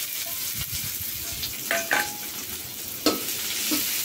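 Garlic and onion hit hot oil as a tempering for gourd and chickpea dal, giving a continuous near sizzle with a few sharp spits and stirring clinks.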